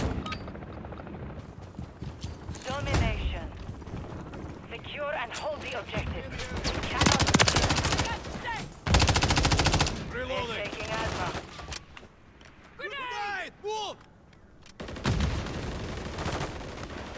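Burst-fire weapon in Call of Duty MWIII shoots in loud clustered volleys among other gunfire and battle noise, with a voice talking intermittently between the bursts.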